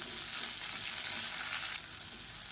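Garlic, green chillies and half a tomato sautéing in a pan for chutney: a faint, even, close sizzle with light stirring, and no one talking.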